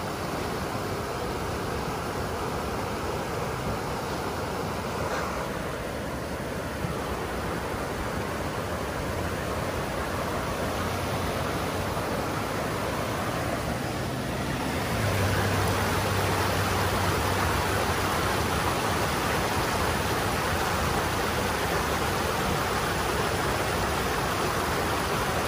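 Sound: large flow of water rushing into Big Bear Lake

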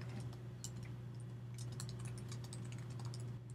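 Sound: typing captions on a computer keyboard

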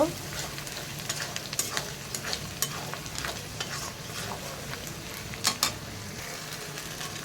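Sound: spices and bay leaf frying in pan

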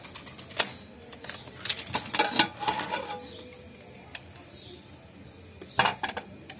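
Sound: opening the lid of a pressure cooker

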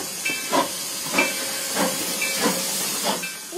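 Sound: steam engine 4960 hissing, runs on vegetable oil

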